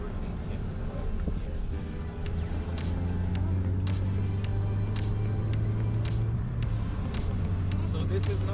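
A MK2 Audi TT 8J drives on a bumpy road and accelerates to overtake another car, its engine note rising to a sustained drone under road rumble and sharp bumps while someone talks.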